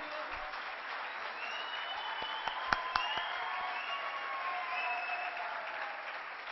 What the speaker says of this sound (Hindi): जबरदस्त बिग हैंड उन सब के लिए।